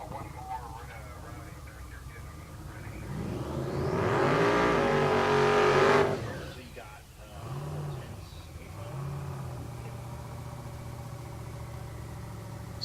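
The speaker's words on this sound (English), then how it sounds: "Andy Cook in the right lane, getting ready to do his burnout" A drag race car does a burnout, its engine revving up into a loud sustained roar that peaks and cuts back, then settles into rumbling idle blips while an announcer talks throughout.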